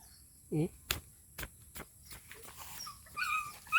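A dog gives a short whimpering yelp, then a few sharp thumps and scuffles, with faint insect chirping and a light whine in the background.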